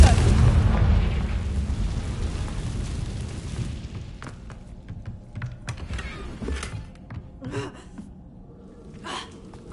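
A Confringo blasting spell in Hogwarts Legacy bursts with a loud, booming explosion up front, fading into scattered crackles, clicks and faint debris sounds as the blast dies away.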